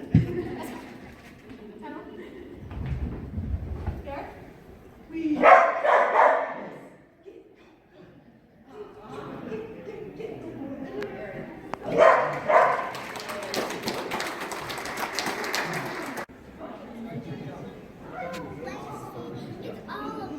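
A dog barks a few times during an outdoor autumn festival dog demonstration handled by a junior handler, with people talking throughout and crowd noise around the sharp bursts.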